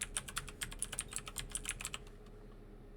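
Rapid, close clicking of keys on a computer keyboard in an uneven burst of keystrokes, which stops abruptly and is followed by a short pause and one final sharp key press.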